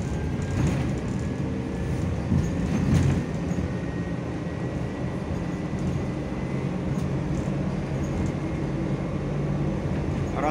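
A Bogdan T901.10 trolleybus in Kyiv hums and whines as its electric motor gathers speed, with steady rolling rumble and occasional clanks throughout.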